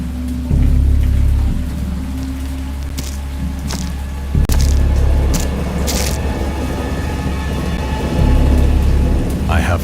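A thunderstorm in the video game Dagon: steady heavy rain hisses throughout while low thunder rumbles roll in and swell, loud and close, with no voices over it.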